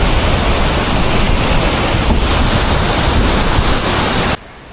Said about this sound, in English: There's the waterfall after the cyclone.